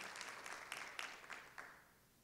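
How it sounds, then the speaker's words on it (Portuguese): A small audience at a health journalism lecture gives a guest a quiet round of applause, soft and fairly distant, with a few sharper claps standing out before it fades. "uma salva de palmas para a Karina"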